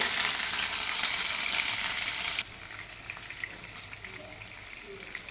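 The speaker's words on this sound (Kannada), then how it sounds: "ನೋಡಿ ಈ ಥರ ಕ್ಯಾಪ್ಸಿಕಮ್ನ ಫ್ಲಿಪ್ ಮಾಡ್ಕೋಬೇಕು" Stuffed capsicum sizzles loudly in a pan, then the frying drops to a quieter, crackling simmer after the peppers are flipped.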